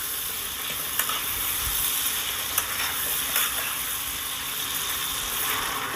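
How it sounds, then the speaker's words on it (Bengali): Potatoes frying in a pan with turmeric and salt, a steady hiss of sizzling oil with occasional soft clicks of stirring, close and continuous with no talking. "একটু হলুদ আর লবণ দিয়ে আলুটাকে ভেজে নিতে হবে"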